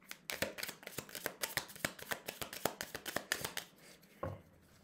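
A deck of playing cards being cut and shuffled close up, with a rapid run of sharp riffling snaps and slaps, then a pause and one final soft tap.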